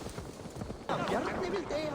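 Horse hooves clip-clop in the video game Assassin's Creed Valhalla, a rhythmic trot of close, moderately loud footfalls that gives way to a louder burst of game sound.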